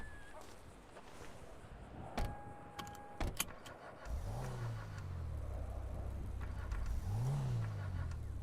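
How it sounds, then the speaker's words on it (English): A car engine in the video game GTA RP cranks, catches and revs up, then settles into a steady idle with a second rev near the end, preceded by a few clicks and a faint beep. "Wait, why does this start my engine?"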